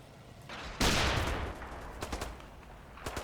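Artillery barrage and gunfire in the wargame Combat Mission, with a 25-pounder barrage falling: one loud sudden blast followed by a rolling rumble and scattered sharp reports.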